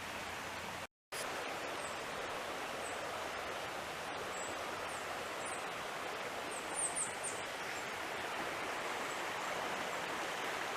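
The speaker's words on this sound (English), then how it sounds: "here's the second bridge crossing another piece of Catawba Creek. There's the creek right there." Catawba Creek flows under a bridge along a trail, a steady close rush of water that fills the whole stretch with an even wash of sound.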